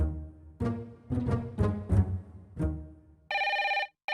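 A telephone bell rings in several loud bursts, then shifts into a steady electronic ring that cuts off near the end.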